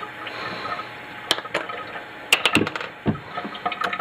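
Running water wets a Breitling Superocean 38 watch during cleaning: a steady splashy trickle close to the mic, broken by several sharp clicks and taps as the watch is handled.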